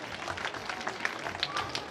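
An audience applauding to honour talented students at a community programme, steady scattered clapping from a crowd, moderately loud and continuous throughout.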